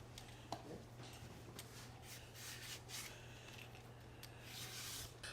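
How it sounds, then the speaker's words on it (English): Peeled sweet potatoes are rubbed against a grater in quick, rhythmic scraping strokes, fairly faint and close, with a low steady hum underneath. "now we're gonna peel and grate about 2 pounds of sweet potato"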